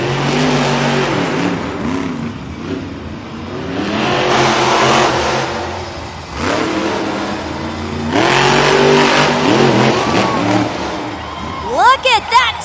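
El Toro Loco monster truck roars through a timed run in a stadium arena, its engine revving and surging repeatedly under an announcer's voice and crowd noise, loud and close.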